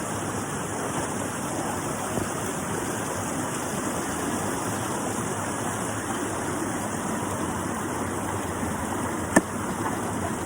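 A creek runs steadily and close by, a dense continuous rush of flowing water with no pauses, holding an even level throughout apart from one brief sharp tick near the end.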